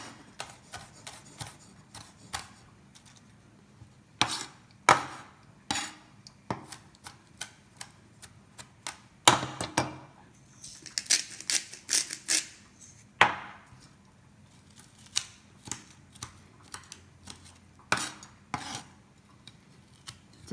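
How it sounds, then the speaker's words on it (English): Pumpkin being prepared for soup, alternately chopped and squished: quiet, scattered sharp clicks and taps with occasional longer squelching rasps. The sounds come at an irregular pace against a near-silent background. "So you chop, then you squish, then you chop, then you squish."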